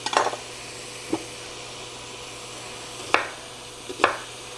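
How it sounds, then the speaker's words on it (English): A knife chopping a whole onion into big slices on a cutting board, four or five sharp, separate cuts spread out and fairly close, with a faint steady hum behind and no talking. "So I'm going to go ahead and chop up my onion."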